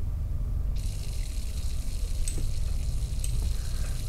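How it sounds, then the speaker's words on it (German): Water runs in a steady loud rush in the dark setting of the video game Layers of Fear, a continuous hiss joined by a brighter splashing layer after the first second, with faint clicks and no speech. "Wasser."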